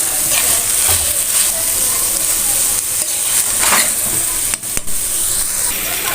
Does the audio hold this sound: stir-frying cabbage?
yes